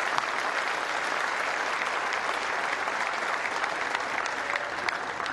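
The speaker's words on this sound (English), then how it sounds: "Ladies and gentlemen, another big round of applause for your runner-up," Steady, dense applause from a tournament crowd honoring the tennis runner-up at the Moorilla Hobart International women's final, sustained and even throughout with no break.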